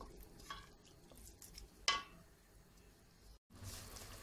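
A spoon stirs a tomato paste mixture frying in a pot for a soup, giving quiet scraping swishes and a faint sizzle, with one sharper clink of metal against the pot.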